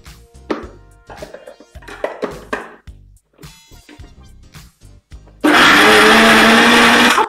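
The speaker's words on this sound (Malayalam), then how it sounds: "ഇനി നമുക്കിത് മിക്സിയിൽ വെച്ചിട്ട് നന്നായിട്ട് അരച്ചെടുക്കാം." A mixer grinder whirs loudly and steadily as it grinds tomato chutney with vegetables, starting abruptly after a series of scattered knocks and clatters from handling the jar.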